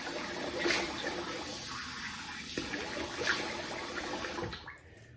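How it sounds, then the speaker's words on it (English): Running water splashes steadily as a man rinses his face after shaving, with a brief louder splash near the start and another midway before the flow cuts off at the end; no one speaks. "So let me rinse the face here."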